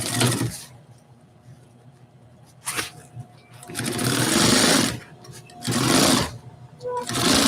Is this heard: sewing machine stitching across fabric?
yes